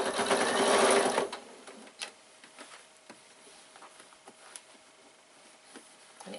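Sewing machine stitching the edges of fabric for a baby bag, a dense rapid whir for about a second that then stops, leaving faint ticks and light handling sounds.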